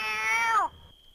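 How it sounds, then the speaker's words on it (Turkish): A single cat's meow in a role-play session of the military game ARMA III, a clear, close, drawn-out cry that bends downward and stops abruptly, leaving a faint steady tone. "Kedi var kedi."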